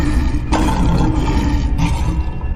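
A cartoon river monster lets out a loud, sustained roar, harsh and rough, with a couple of sharp bursts partway through and no talking over it.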